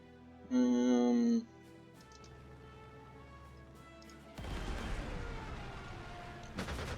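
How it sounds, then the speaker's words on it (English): Artillery fire in the wargame Panzer Corps 2: after a brief tonal chime, a dense, loud roar of blasts and rumbling rolls in and continues steadily to the end. "Go ahead and pound them with artillery."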